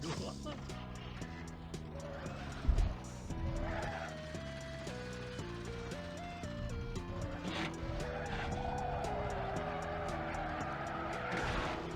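Tires squeal in sustained, wavering skids as a car drifts in Banjo-Kazooie: Nuts & Bolts. The screech runs almost the whole time over continuous game music and engine sound, with a brief thump partway through.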